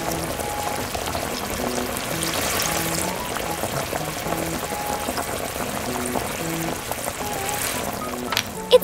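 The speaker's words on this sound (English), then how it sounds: "Let's boil it." Shrimp boil in a pot of water in a miniature kitchen, giving a soft, continuous bubbling and light patter under a gentle melodic background tune, with a small clink at the end.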